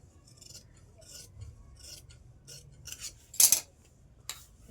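Scissors snipping through cloth while a collar is cut out for a garment, a few soft quiet cuts and rustles with one sharper, louder snip near the end.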